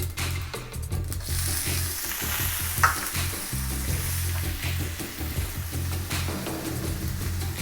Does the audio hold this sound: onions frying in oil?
yes